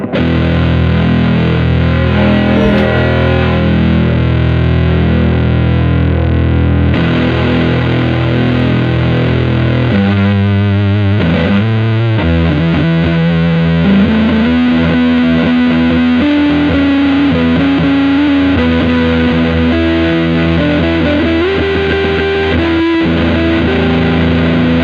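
A Stratocaster played through an OC75 germanium Tone Bender MKII clone fuzz into a 5E3 amp, cranked full blast: thick, saturated distorted chords and riffs that ring loud and sustained throughout, then shift into single-note lines.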